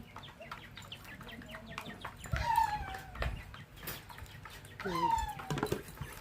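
Quails, including a white one, calling in their coop, a mix of short chirps and repeated rising whistled calls, fairly close but soft, with scattered pecking and shuffling sounds between them.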